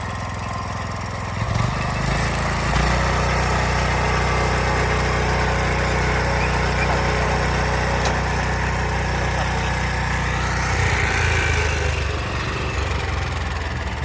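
A rotary tiller's engine drones loud and close, then revs higher as the tines throw soil, a steady mid-pitched mechanical hum with vibration running throughout and no voices.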